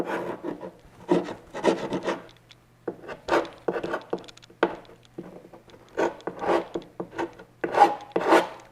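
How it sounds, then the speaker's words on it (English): A carbide paint scraper is dragged over a wooden bass cabinet in short rasping strokes, a dry scratchy rhythm of bursts and brief pauses heard up close. "this is a Carbide paint scraper"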